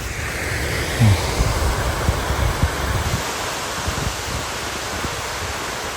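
Strong gusty wind roars through a Carpathian mountain forest on a rainy autumn day, a steady broad rush with a few louder buffets on the microphone early on.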